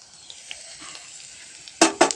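A tempering of spices with green chilli powder sizzles quietly in a pan for a jackfruit curry, then gives two sharp, loud crackling bursts close by at the end.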